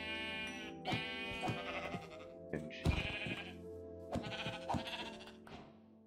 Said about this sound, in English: Okay, there's a bunch of sheep.